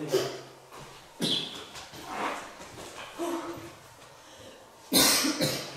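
Several harsh coughs break out across the clip, one sharp burst early and a louder cluster near the end, with quieter throaty sounds between.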